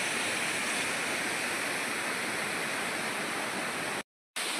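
Water flows steadily from a waterfall-fed stream near a temple, a constant broadband rushing wash heard close and unbroken until a brief cut near the end.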